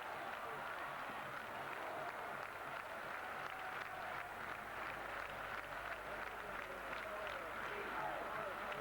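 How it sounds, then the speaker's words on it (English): Ice hockey arena crowd on its feet in a standing ovation near the end of a game, a dense, continuous roar of clapping and cheering that stays loud and steady throughout. "With the crowd giving a standing ovation for the last 2 minutes of the game"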